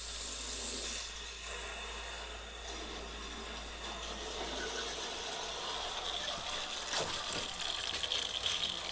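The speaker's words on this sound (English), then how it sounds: "we are ready to turn on the water here" Water rushes into the pipes of a geothermal pond loop system, a steady gushing flow with mechanical clicks and a sharp knock partway through.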